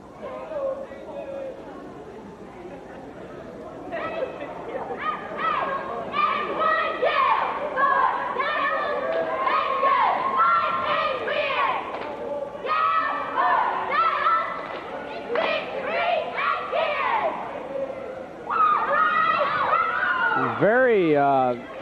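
A cheer squad chants in unison at a 1987–88 Gate City Lady Devils girls' high school basketball game, rhythmic group voices rising and falling over crowd babble in a gym, ending with a sharper high shout.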